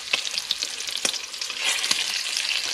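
Bacon grease sizzles steadily in a pan, a dense continuous crackle with a few sharper pops, fairly close and with no voices.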